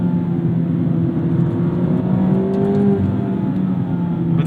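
Mazda MX-5 Miata ND3 with an open differential driving through a low-speed track section, engine droning steadily with rising and falling pitch as it accelerates, plus tire and road rumble, heard from inside the car.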